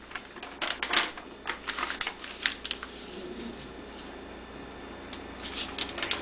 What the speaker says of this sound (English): Fold a diagonal across the entire square, crossing the previous diagonal.